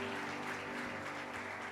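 A church congregation claps together in steady, fairly faint applause that fills a short stretch without any break, with no voice rising above it.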